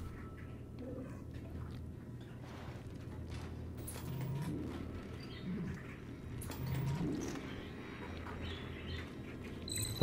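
Caged birds coo softly in the game Dead Space 2, with several low, rounded calls recurring at a moderate distance over a steady ambient background hum.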